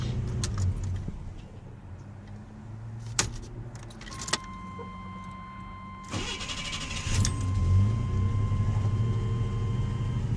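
A 1993 Chevy S10 pickup with a 2.8-litre throttle-body-injected engine runs steadily at idle, a low continuous rumble close by, with a few sharp clicks and a jangle of keys partway through; no one speaks.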